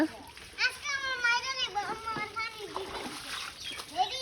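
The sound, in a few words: children splashing water while bathing under a motor pump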